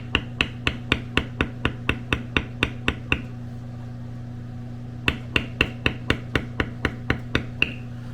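A metal beveling tool is hammered into tooled leather for a square coaster pattern, giving a steady run of sharp, evenly spaced taps, then a pause and a second run of taps, over a constant low electrical hum.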